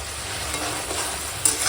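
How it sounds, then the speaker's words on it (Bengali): Tomato chutney with melted sugar stirred in a pan, a soft steady scrape and gentle sizzle running through a brief stretch. "টমেটোটা আমি এরকম নেড়ে যাব"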